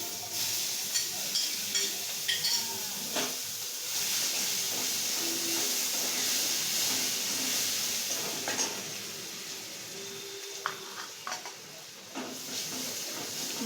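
Garlic paste sizzles as it hits hot oil with tempering spices for a Bengali doi katla fish curry: a soft, steady hiss with faint scattered pops and crackles, heard alone and at moderate distance.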